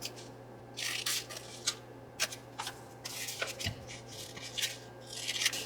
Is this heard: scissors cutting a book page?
yes